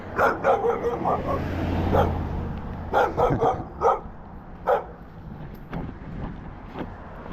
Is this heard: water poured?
no